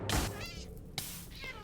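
A cat meows in Minecraft, with two or three harmonic mewing calls in quick succession that sound close and clear, and no voices over them.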